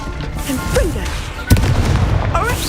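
A Confringo spell bursts in Hogwarts Legacy with one sharp explosive crack midway, surrounded by magical whooshes and spell effects while a voice speaks.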